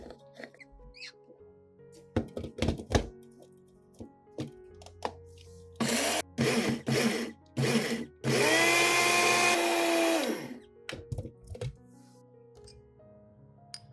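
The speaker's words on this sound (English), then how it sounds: "put it in a blender and grind it into a fine powder" An electric blender grinding dried ginger into powder whirs in several short pulses, then runs for a longer grinding burst before stopping, with clattering handling noises around it.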